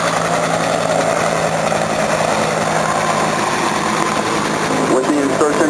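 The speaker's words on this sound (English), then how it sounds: "the UH-60 gunner aircraft will continue to provide overhead cover for the operation by continuing to perform strafing runs" A UH-60 Black Hawk helicopter at a National Guard combined arms demonstration makes a steady, loud engine and rotor roar throughout, with someone talking over it.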